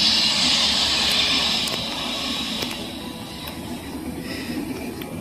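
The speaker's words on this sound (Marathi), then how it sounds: "रेल्वेचा आवाज होतोय" A train passing near the Nagnath caves between Karjat and Khopoli: a steady broadband rumble and hiss that eases a little midway, with no voices.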